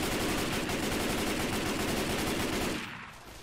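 Rapid, sustained automatic gunfire in the Left 4 Dead zombie shooter, a dense loud stream of shots for nearly three seconds before cutting off abruptly into quieter game ambience.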